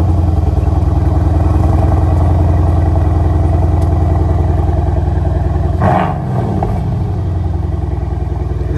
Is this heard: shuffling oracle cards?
no